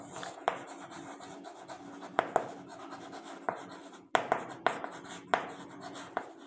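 Pen writing on paper as sums are worked through in a Class 5 math lesson, a steady soft scratching broken by sharper taps and strokes at irregular intervals, close and quiet with no talk.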